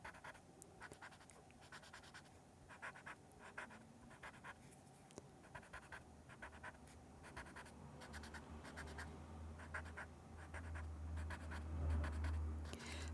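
Graphite shading smoothed on paper with a paper stump, heard as a soft, close, continuous rubbing and scratching with a steady rhythmic back-and-forth stroke, quiet and with no talking.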